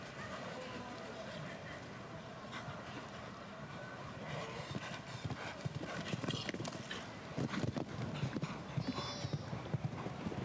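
Hooves clip-clop steadily as a stallion named Chardonnay moves around a show jumping arena at the 2019 CP International, with a commentator talking over the rhythmic footfalls and arena ambience.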